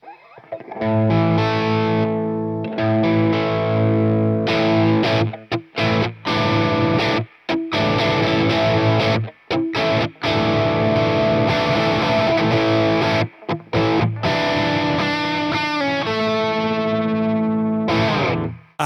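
A distorted Newmann GT40 electric guitar plays chords and sustained notes through an amp, ringing out with brief pauses between phrases.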